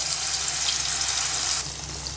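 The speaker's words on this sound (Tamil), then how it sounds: "இப்போ மிக்சியை கழுவி கொஞ்சம் தண்ணி ஊற்றிக்கலாம்." Water runs steadily from a kitchen tap while a mixer jar is rinsed, a close, continuous splashing hiss that softens slightly near the end.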